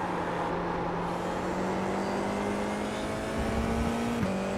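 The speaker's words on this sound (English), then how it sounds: "Got to listen to the car a lot." A race car engine in iRacing at the Algarve circuit at Portimao holds a steady, loud drone with a sustained pitch, then shifts briefly near the end, as if for a gear change or a lift off the throttle.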